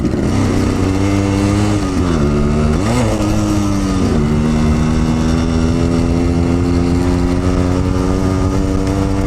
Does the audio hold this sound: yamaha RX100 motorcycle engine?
yes